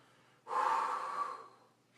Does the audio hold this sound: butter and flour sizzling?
no